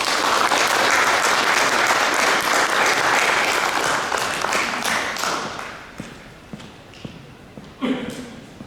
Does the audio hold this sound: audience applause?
yes